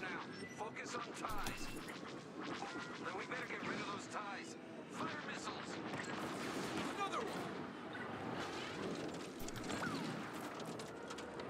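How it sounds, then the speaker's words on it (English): Missiles and blasters firing in a Star Wars Squadrons space dogfight against Imperial TIE fighters, a busy stream of bursts and explosions under steady engine roar, with talk over the top. "We are firing some missiles"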